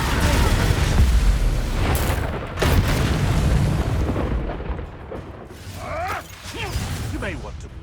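An Incendio fire spell bursts in the video game Hogwarts Legacy with loud booming whooshes and crackling blasts amid combat effects, while voices speak over the action.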